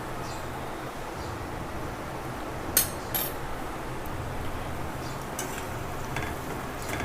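A spoon stirs a drumstick curry spiced with Kashmiri red chili and coriander powder in a pan, a few faint metallic clinks and scrapes scattered over a soft, steady background.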